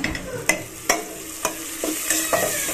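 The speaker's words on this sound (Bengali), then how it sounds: "আমি এখানে এই যে পেঁয়াজ ভাজছি" Onions fry in a pan for a home-cooked meat dish, giving a steady close sizzle. Sharp spatula scrapes and stirs cut through it about every half second.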